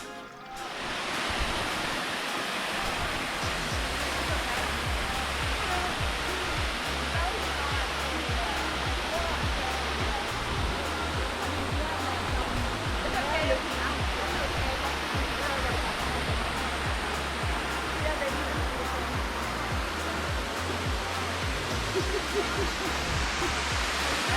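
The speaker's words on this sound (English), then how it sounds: "this is the David Waterfall" The David Waterfall at Ein Gedi pours steadily as a dense, continuous roar of rushing water, loud and close, with no break or change for the whole stretch.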